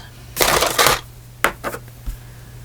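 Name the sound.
cutting paper for a craft project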